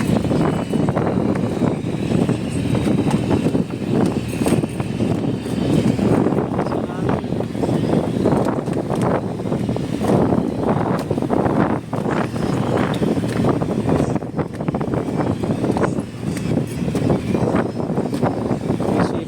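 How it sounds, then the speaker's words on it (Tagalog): Outdoor wind buffets the microphone as a loud, dense, continuous rumble with gusty flutter that persists throughout. "Yung hangin."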